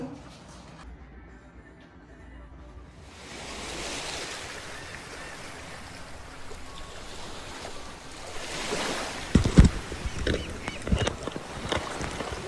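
Sea waves wash ashore at the seaside on Xiaoliuqiu island, a steady broad surf that swells after the first few seconds and grows choppier near the end, with no talk.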